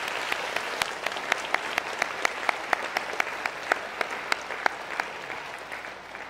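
A church congregation gives warm applause to the choir, a dense, steady clapping from many hands with a few sharper individual claps standing out, lasting the whole stretch at moderate volume.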